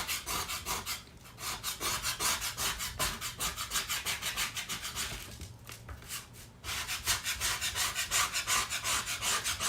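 Rhythmic back-and-forth scraping and sanding on a small wooden craft letter, quick rasping strokes close up, with a short pause midway before the strokes resume.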